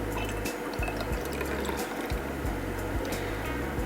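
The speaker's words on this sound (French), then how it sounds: "Donc on va mettre le vinaigre dilué avec l'eau dans le verre à pied." Diluted vinegar poured from a container into a stemmed glass, a soft continuous liquid trickle with small gurgles, quiet and close, with no voices.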